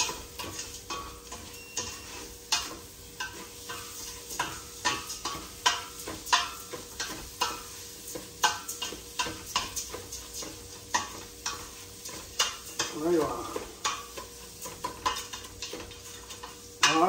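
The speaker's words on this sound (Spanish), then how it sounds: "hay que pegarle una sofreída al arroz." Rice sautéed and stirred in a frying pan for shrimp rice: a steady sizzle with frequent scraping, clicking stirs in an uneven rhythm, close and without talk.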